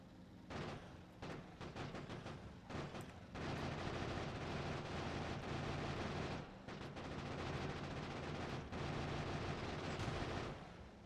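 Dense gunfire in Factorio, rapid repeated shots in sustained bursts with brief gaps, faint overall and without any talking.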